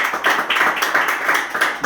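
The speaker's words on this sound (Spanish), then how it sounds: "Le damos una fuerte ofrenda de palmas a Dios." A church congregation clapping hands in praise to God, a brisk, fairly loud round of clapping with a rhythmic pulse and no talking over it.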